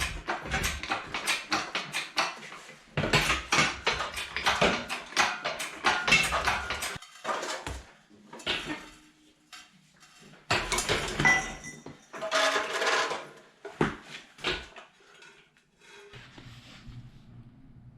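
Metal parts of a Jeep 4.0L engine clank and clink as the oil pan is worked loose and pulled, in bursts of clattering handling separated by short pauses, close and fairly loud.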